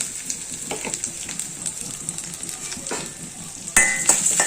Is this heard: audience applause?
no